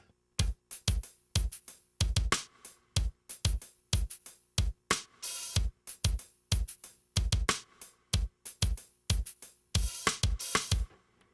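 A full drum beat plays in a steady groove, with punchy kicks, crisp snares and bursts of cymbal, loud and close without any voices.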